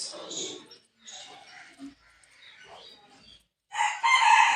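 A rooster crows loudly and close in separate drawn-out bursts, with brief quiet gaps between calls and the loudest crow at the end.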